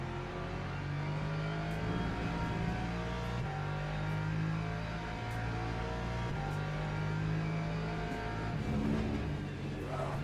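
Several LMP2 prototype race cars in a racing video game drone and rev steadily in a dense engine chorus throughout, with shifting pitches as they accelerate, loud and continuous with no talk.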